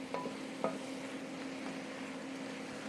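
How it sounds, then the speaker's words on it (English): Paprika and mushrooms toasting in a stew pot for red wine beef stew, stirred with a few soft scrapes over a steady low sizzle and hum. "Just mixing this up. Letting that paprika toast."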